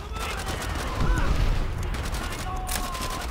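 Bursts of rifle and machine-gun fire in the World War II shooter Call of Duty: World At War, dense and rattling amid booming battle noise, with someone talking over the gunfire at times.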